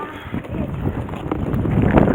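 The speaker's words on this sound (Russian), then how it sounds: "Ветер, наверное, сегодня," Outdoor wind buffets the microphone during an early-April walk with children, a continuous low rumbling roar that swells slightly louder toward the end.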